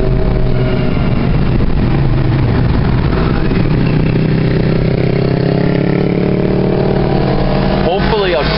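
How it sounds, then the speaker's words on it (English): A motorcycle engine roars loudly and steadily close by on a street near hotels in Niagara Falls, holding a constant drone throughout without clear fading. "Motorcycle passes."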